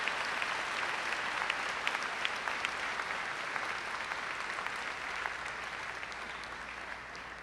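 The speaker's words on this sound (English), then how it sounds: "I'd like to give a special round of applause for those class of 2017 members who just made their last performance with the band." Audience applause at a high school commencement for the class of 2017, a steady wash of clapping from a large crowd that holds evenly and tapers slightly near the end, with no talking.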